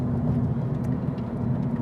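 Cars in a line drive along a road during a group test drive, a steady close engine drone and tire roar holding level throughout with faint passing whooshes.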